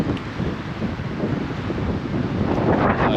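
Steady wind buffeting the microphone at a lakeside camp on Revelstoke Lake, a continuous roaring rush that grows slightly louder toward the end, with no voices.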